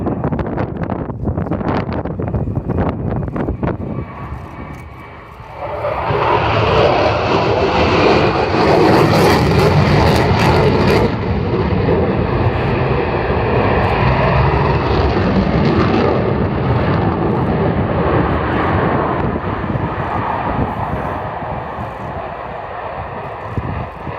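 A Ukrainian Air Force Sukhoi Su-27 fighter jet flying at the RIAT airshow, its loud, continuous jet-engine roar swelling and sustained for most of the time, with wind buffeting the microphone.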